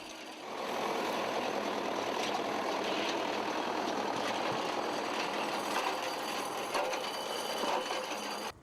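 A loud, steady mechanical roar of a tractor rolling down overgrown ferns close by on a Normandy farm, with a continuous engine drone and grinding noise that holds throughout.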